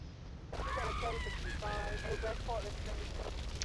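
Fire burning in Grand Theft Auto III, Xbox version, as a steady roaring crackle throughout, with someone talking over it.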